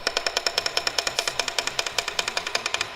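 An idling car engine with a worn rod bearing knocking, a loud, sharp, evenly spaced metallic tapping repeating rapidly about eight times per second, close up and alone.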